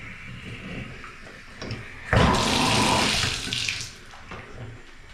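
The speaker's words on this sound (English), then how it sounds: "I can hear water running also in here." Water runs steadily from a leaking bathtub tap that will not shut off, in an upstairs bathroom; a low trickle swells into a loud, close gush for about two seconds before easing back down.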